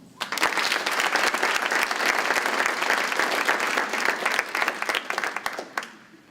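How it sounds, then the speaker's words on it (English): An audience at a conference opening session breaks into loud, sustained applause from many hands clapping at once, holding steady for several seconds before thinning out and fading near the end. "Let's give a round of applause to all of the 2017"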